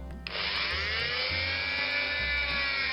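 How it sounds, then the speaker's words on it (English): A small power drill with a 1.5mm bit whines steadily at high pitch while drilling out a post on a Matchbox Ford Transit model, starting abruptly and running continuously up close, with faint low rumbling underneath. "I'm drilling the post out, so I can set M2 tap"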